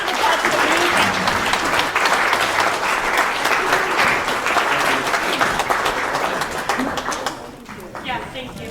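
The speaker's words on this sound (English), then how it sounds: "let's give a round of applause" Audience applause fills a symposium hall, a dense, steady wash of clapping from a large crowd that holds loud for most of the stretch, then thins and fades near the end.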